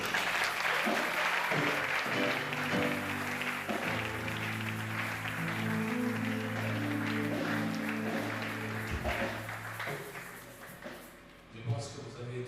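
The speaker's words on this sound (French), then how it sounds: "Est-ce qu'on peut acclamer le Seigneur?" A church congregation applauding the Lord, sustained loud clapping from a crowd filling the space and fading near the end, with music and a voice underneath.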